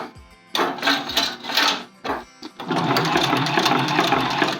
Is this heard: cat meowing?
no